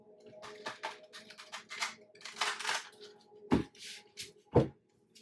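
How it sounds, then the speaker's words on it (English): Tarot cards being shuffled by hand, a run of soft papery riffles and taps with a couple of sharper slaps near the end, close and fairly quiet with no talking. "Two more shuffles."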